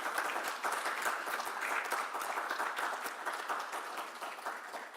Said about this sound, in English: Please clap these four guys that helped me so much.